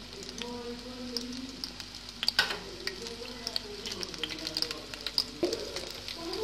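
Pakora fritters frying in hot oil give a steady, close crackling sizzle with scattered pops and a few soft clinks, continuing throughout.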